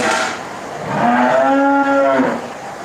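A single long, loud cow moo close by, rising and holding for over a second before trailing off.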